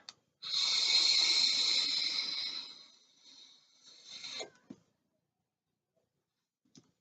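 A long inhale drawn through a TFV12 vape tank with a 0.12 ohm twelve-coil build set to 80 watts: a close hissing, crackling draw lasting about four seconds, then a brief exhale and a couple of faint clicks.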